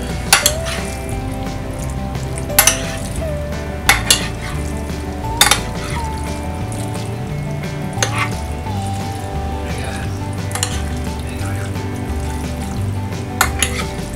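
A lasagna pasta mixture is stirred in a pan, a low frying hiss running throughout with a few sharp utensil knocks against the pan at irregular intervals, close and moderately loud, without speech.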